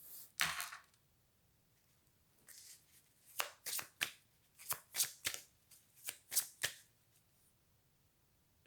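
A deck of tarot cards being shuffled in a quiet room, a run of crisp riffling bursts in an uneven rhythm, close and clear with no talking.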